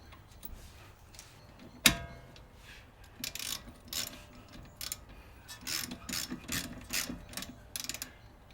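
Ratchet working small bolts by hand on a Subaru SH Forester during a front wheel bearing job: quiet, close clicking of the pawl in short irregular bursts after a single sharp knock, repeated through the second half.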